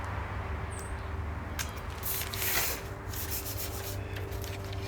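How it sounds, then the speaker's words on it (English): Sandpaper rubs on a wooden guitar neck at fine grits up to 800, a soft continuous scratchy hiss with a few brighter strokes near the middle, over a low steady hum and no speech. "I have sanded almost up to 800 grit on all three necks."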